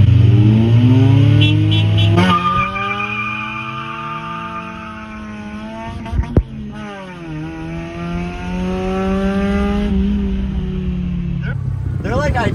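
EK Honda Civic accelerating hard in a drag race against a turbo Volkswagen, engine notes rising and shifting in steady sweeps across gears, loud and close throughout, with a brief knock midway.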